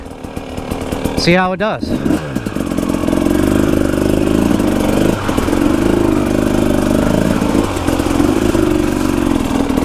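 A KTM 300 two-stroke dirt bike revs up and powers through a soft sandbar, a loud, close, buzzing engine drone held steady with small dips in pitch; a brief spoken remark comes right before it starts.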